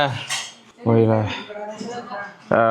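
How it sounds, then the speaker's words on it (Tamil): Dishes and vessels clatter as they are washed by hand, with clinking cutlery and pots knocking in short bursts close by, while a person talks over the sounds. "நான் வந்து பாத்திரம் கழுவிட்டு இருக்கேன்."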